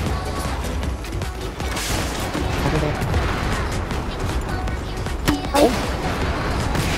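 Battlefield 4 combat with continuous gunfire and scattered blasts, one sharper burst near the end suggesting a grenade explosion off a wall, under a voice speaking briefly.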